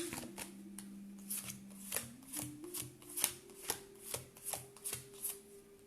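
Oracle cards are gathered and handled, giving a series of quick, crisp papery flicks and taps in a fairly regular rhythm, close and quiet, over a faint steady low tone with no speech.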